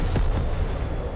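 A single deep booming explosion in a jet combat mode of a mobile game, after a lock-on from behind, with a brief sharp onset followed by a rumbling low tail; no talking.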